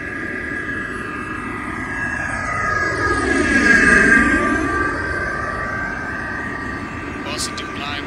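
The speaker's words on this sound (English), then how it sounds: "clear for lineup and clear for takeoff" An airliner takes off in a film scene, its jet roar swelling and sweeping past before fading, with a high whine running throughout and voices speaking over it.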